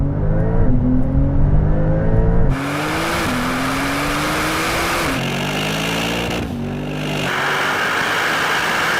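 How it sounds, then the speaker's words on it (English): A Porsche 911 Turbo S and a Mercedes G63 accelerate hard in a rolling drag race, their engines rising through loud, climbing roars, with clear gear-change drops and strong wind rush in between. "now we're going for a rolling race from 50 kilometers an hour in second gear to the half mile"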